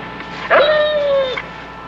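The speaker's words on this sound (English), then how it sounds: "Let go of my dog!" A frightened dog whimpers in one long, high, wavering whine lasting under a second, close and fairly loud, then falls quiet.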